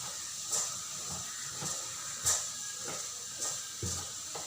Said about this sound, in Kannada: ಕೋಲ್ ಹಾಕ್ಕೊಂಡು ತಿರುಗಿಸ್ಕೋಬೇಕು